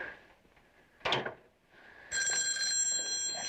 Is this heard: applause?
no